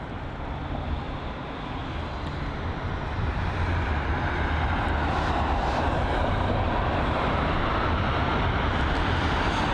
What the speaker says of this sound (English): the A320neo that's being moved away